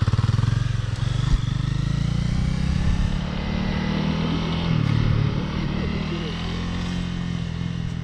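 A CBR250 motorcycle engine drones steadily at close range, its low rumble rising slightly in the middle under gentle throttle, with voices talking over it.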